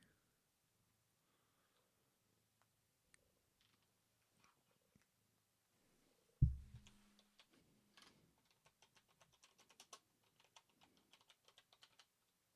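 A cat walks across a computer keyboard, pressing keys in quiet scattered clicks, then one sharp thump followed by a run of irregular, close tapping keystrokes.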